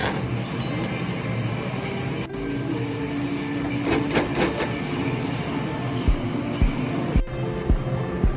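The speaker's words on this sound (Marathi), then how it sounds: "मिक्सरला लावून घ्यायचं" A mixer grinder whirs loud and steady close by as it grinds fried dry fruits for laddoos, a dense continuous motor roar with no voices.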